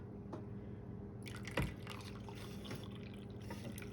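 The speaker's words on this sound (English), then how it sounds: "I'm going to pour more hot water in here" Hot water being poured into a bowl while cleaning silver, a soft close trickle and drip with a brief splash partway through, fairly quiet against a steady low hum.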